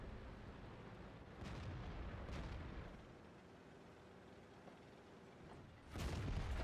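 Tank cannon fire in the video game World of Tanks: several heavy booming shots over a constant rumbling engine bed, with the loudest blast near the end.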